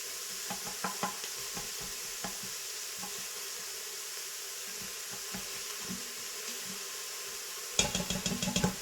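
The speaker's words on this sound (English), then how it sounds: "We want to go ahead and saute this for probably about 3 minutes to get the onion browned a little bit" Onion sautés in an Instant Pot with a soft, faint sizzle under scattered stirring clicks and scrapes. A louder burst of scraping comes near the end.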